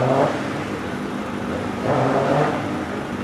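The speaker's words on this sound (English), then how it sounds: "So Jeff Tremlow leaves the line in the Subaru" A Subaru hillclimb car leaves the start line at the Doune British HillClimb Championship, its engine note a steady loud roar that swells as it accelerates away, with no voices over it.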